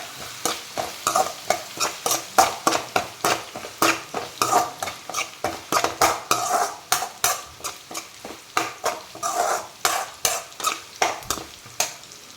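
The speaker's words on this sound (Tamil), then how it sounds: "கொஞ்சம் கருவேப்பிலையும் போட்டுக்கிடணும். போட்டு நல்லா வசக்கணும்." Curry leaves sautéed for chicken 65, stirred briskly in a frying pan with a steady sizzle and a fast run of loud, close scraping strokes from the spoon against the metal throughout.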